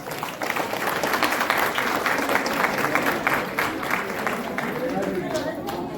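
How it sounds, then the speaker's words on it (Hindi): Audience applause at an All India Brahmin Front honors ceremony, steady dense clapping from a sizable crowd that holds for the whole stretch, with a voice talking faintly underneath. "तालियां हो जाए।"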